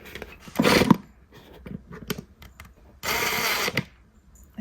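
A power drill bores holes into a plastic Dollar Tree planter in two loud whirring bursts, each under a second long, with quieter handling clicks and rustles between them.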